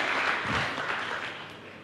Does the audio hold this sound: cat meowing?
no